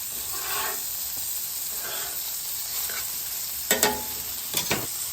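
Chicken fried steak frying in hot oil on a Weber slate griddle at around 400 degrees, a steady soft sizzle with a few sharp scraping clatters near the end.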